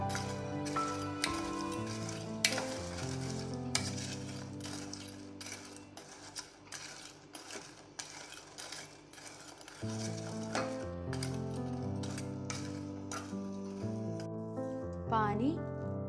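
Broken wheat payasam is stirred in a pan with a spoon, making repeated clinks and scrapes over a steady tonal musical background.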